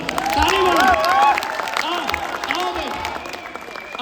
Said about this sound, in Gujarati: તેવા 5 પ્રોડ્યુસર માટે જોરદાર તાળી પાડો